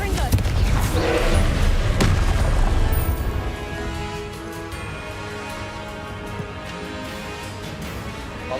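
Confringo blasting-spell explosions in the wizarding game Hogwarts Legacy: a heavy booming blast opens, then more crashing impacts follow and fade into a steady rumble of spell effects.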